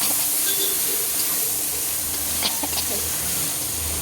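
Vegetables and brinjal fry in a pan over a gas flame turned low, giving a continuous, even sizzling hiss with faint crackles throughout.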